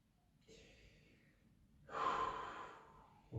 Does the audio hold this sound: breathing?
yes